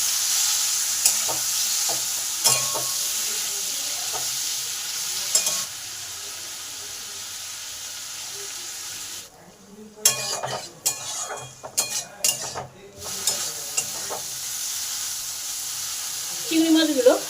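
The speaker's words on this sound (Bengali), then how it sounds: "তেলটা ভালোভাবে গরম হয়ে গেছে, এবার এই চিংড়ি মাছগুলো ভেজে নেব।" Prawns fry in hot oil in a pan, sizzling steadily at first with occasional scrapes. Later, bursts of utensil clatter and stirring come and go between quieter gaps, with no clear speech.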